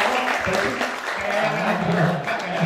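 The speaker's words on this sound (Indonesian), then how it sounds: "Jadi boleh tepuk tangannya, terima kasih." Audience applause at a youth business leadership talk in Tasikmalaya, a steady dense patter of many hands clapping at moderate loudness, with faint voices mixed underneath throughout.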